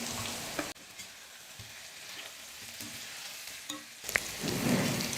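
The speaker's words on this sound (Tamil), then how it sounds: "எண்ணெயிலே கத்திரிக்காவை வதக்கும் பொழுது நல்லா வெந்து வந்துடும்" Eggplant sizzles as it sautés in oil in a pan over medium flame. The steady frying hiss sinks briefly quieter, then swells back up with a few faint stirring clicks.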